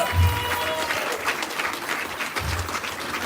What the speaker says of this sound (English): I want y'all to give them a round of applause.